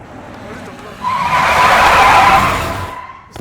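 A car brakes hard and its tires skid in a loud, rising screech that swells for about two seconds before fading out.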